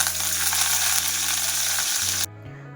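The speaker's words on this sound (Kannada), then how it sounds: "ಸಾಸಿವೆ ಮತ್ತು ಜೀರಿಗೆ ಚಟಪಟ ಅಂದಮೇಲೆ ಸ್ವಲ್ಪ ಕರಿಬೇವನ್ನ ಹಾಕ್ಕೊತಾ ಇದ್ದೀನಿ" Mustard seeds, cumin and curry leaves frying in hot oil make a loud, dense crackling sizzle close up, under a steady low hum, before it drops away abruptly near the end.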